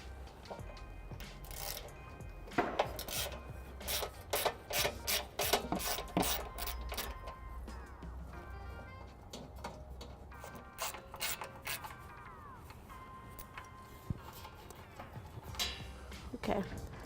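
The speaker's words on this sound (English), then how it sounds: "I'll be using a socket wrench with an 8mm to remove the 3 bolts on each side." Socket wrench ratcheting out 8mm bolts on a 2009 Ford Edge during a trailer hitch install, bursts of rapid clicking pawl strokes near the mic, pausing between turns, with occasional clinks.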